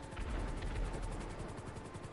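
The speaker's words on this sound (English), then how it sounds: "Helicopter almost went down there. The propeller started stopping there." Video game helicopter during a heist, a low rhythmic rotor chop thudding steadily, moderately loud and continuous over a rumbling background, with no talking.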